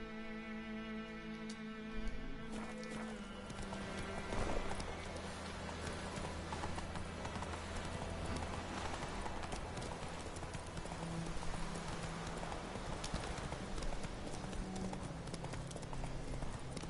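Roach, a horse in The Witcher 3, gallops with quick rhythmic hoof clip-clops over a continuous game soundtrack, the hoofbeats carrying steadily from start to finish.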